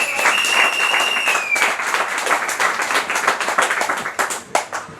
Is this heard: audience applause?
yes